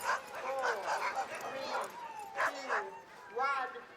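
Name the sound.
sled dogs barking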